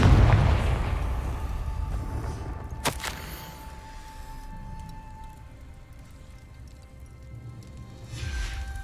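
A Confringo blasting curse explodes in Hogwarts Legacy, with a loud booming burst at the start, a sharp crack shortly after, and a rumbling tail that fades over several seconds.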